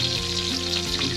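Mustard seeds frying in hot oil, a dense continuous sizzle with faint crackles, close up and steady, with a low tonal hum running underneath.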